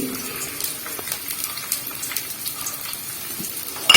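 Garlic, shallots and ginger sauté in hot oil, giving a soft, continuous sizzle with scattered light crackles and stirring scrapes, close and fairly quiet. No one speaks.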